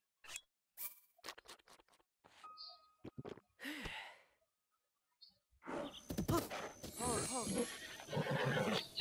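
Royal white stallion in Zelda: Breath of the Wild gives a whinnying neigh among game sound effects, with a person talking over the later part.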